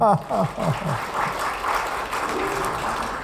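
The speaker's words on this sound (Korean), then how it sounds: "박수 한번 쳐주세요." At a festival award ceremony, a speaker's voice opens and then gives way to a moderate round of audience applause that carries steadily to the end.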